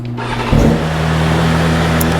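BMW M1000RR superbike engine firing up, catching after a brief crank and then settling into a steady, loud idle that continues alone to the end.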